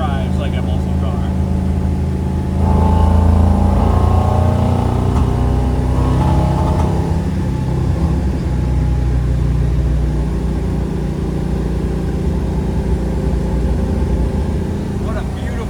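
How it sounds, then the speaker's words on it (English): A deep, rumbling 396 V8 engine of a 1968 Chevy Nova SS muscle car idles and revs up briefly, a heavy low throb that continues steadily throughout. "Runs, sounds, and drives like a muscle car."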